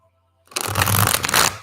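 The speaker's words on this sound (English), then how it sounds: "So we're shuffling now back into the 62 Akashic deck." A large waxy-finished Akashic tarot deck being shuffled, a brief silence and then a loud, dense riffling burst of cards that runs close up for about a second.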